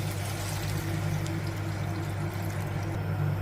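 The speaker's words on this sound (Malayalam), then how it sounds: "നമുക്ക് വെള്ളം ചേർത്ത് കൊടുക്കാം." Water pours steadily into a pan of frying green peas for curry, a continuous rushing splash against a low background hum.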